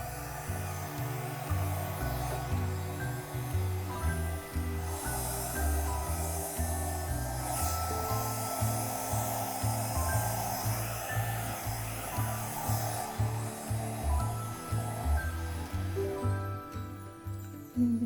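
A hair dryer blows a steady, close, continuous rush across sections of silver and blue acrylic fluid paint, with soft background music running beneath it the whole time.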